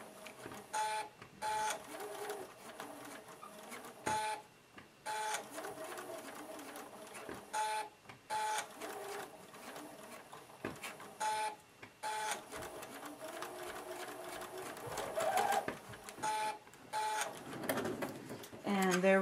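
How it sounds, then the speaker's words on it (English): A sewing machine stitches quilt pieces slowly, pivoting around curves in short bursts of whirring separated by brief pauses, with a person talking quietly between the runs. "I'm going to start to sew right about an eighth of an inch in. Okay, I'm just going slowly and pivoting around these curves."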